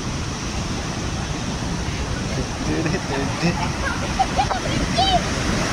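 Heavy water from the Bhima river surges through three or four opened dam gates, a broad steady roar close by, with someone talking over it.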